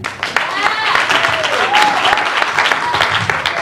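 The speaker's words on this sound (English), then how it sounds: "Once again, while you're still clapping, put your hands together for Miss Morgan McCoy." Audience applause and clapping at a charity fundraiser talent show, a dense, sustained wash of hands close and loud throughout, with a voice speaking over it.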